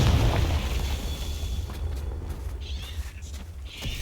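A Confringo fire spell explosion in Hogwarts Legacy opens with a heavy low boom, then rumbles and fades under scattered game effects.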